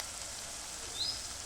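Ground red chilli powder, turmeric, coriander powder, chaat masala and garam masala frying in oil with chickpea curry in a pan give a soft, steady sizzle throughout, fairly quiet and with no talking.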